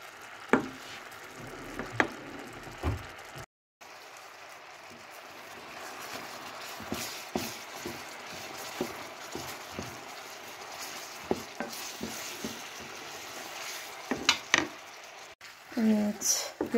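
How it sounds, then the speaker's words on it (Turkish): Almonds caramelizing in a pan are stirred continuously, giving soft scraping and patter with small clicks and a faint sizzle, fairly quiet, with a short break and a louder clatter near the end. "Böyle sürekli karıştırın"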